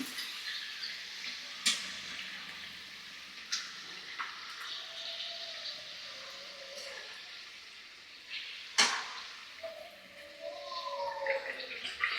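Kajjikayalu, sweet stuffed dumplings, fry in hot oil with a soft continuous sizzle and bubbling, punctuated by occasional clinks and scrapes of a utensil, fairly quiet and with no talking.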